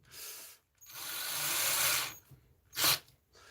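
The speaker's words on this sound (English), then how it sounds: "what I do have is a Craftsman drill," A Craftsman power drill whirs in two bursts, a short one then a longer steady run, followed by a brief sharp whine, close and fairly loud.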